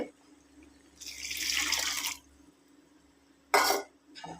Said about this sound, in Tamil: இப்போ அந்த பருப்பு தண்ணியை வந்து சேர்த்துக்குவோம்